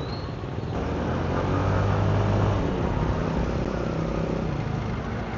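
A KYMCO Dollar 150 scooter on a test drive runs with a quiet, smooth engine hum beneath steady wind and road noise, a low tone rising briefly mid-way before settling.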